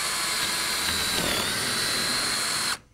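A drill fitted with a Kick high-speed brad point bit bores into hardwood oak flooring, a steady loud high-pitched whine running without pause for nearly three seconds before cutting off abruptly.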